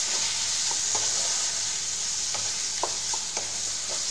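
A spice mixture with garam masala and salt is stirred in a hot pan: a constant close sizzle broken by intermittent soft scrapes of the spoon.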